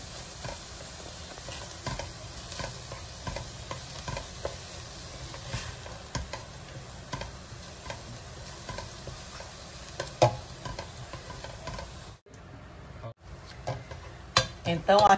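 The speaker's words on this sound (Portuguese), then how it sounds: "aqui estamos com os nossos temperos já refogando" Seasonings and a handful of chopped green herbs sautéing for a sardine vatapá, a low continuous sizzle with soft stirring scrapes and light taps against the pan, briefly dropping out before returning.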